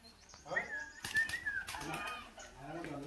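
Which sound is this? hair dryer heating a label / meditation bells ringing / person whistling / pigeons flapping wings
pigeons flapping wings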